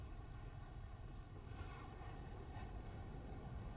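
A jet fighter engine with afterburner lit in War Thunder gives a steady, dense roar that holds constant throughout, with faint tonal whine layered over a rumbling low end.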